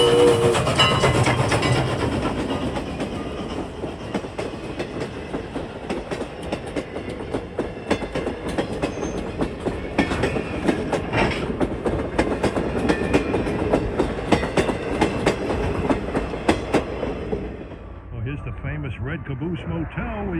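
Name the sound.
train passing on the Strasburg Railroad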